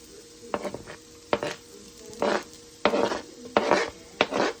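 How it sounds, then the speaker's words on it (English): Garlic dropped into hot olive oil in a pan for chicken noodle soup, a soft steady sizzle broken by several sharp scraping stirs and clinks of utensil against the pan, fairly quiet and close. "a tiny bit more oil, and then put the garlic in"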